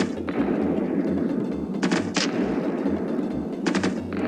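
A weapon fires at a planet in the Solar Smash video game. A loud rhythmic series of thudding shots repeats under a constant roar, with a few brighter bursts.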